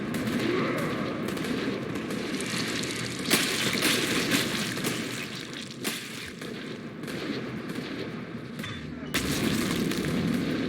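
Dense, continuous gunfire and heavy booms in a Mass Effect 3 battle, loud and relentless with bursts of automatic fire and explosions layered over a busy combat soundscape, no speech.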